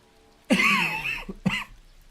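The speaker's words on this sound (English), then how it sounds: "excuse the coughing, guys." A person with lungs still recovering from illness coughs twice, a loud harsh burst followed about a second later by a shorter second cough, close to the microphone with no talk.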